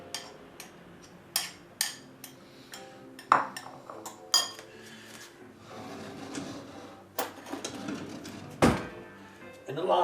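Flavoured rice being stirred with a spoon in a dish, a string of sharp clinks and scrapes at uneven intervals with soft thuds between, close by and fairly quiet.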